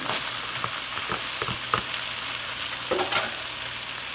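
Beef frying in a pan with red onions and peppers, a continuous close sizzle broken by scattered stirring taps and scrapes.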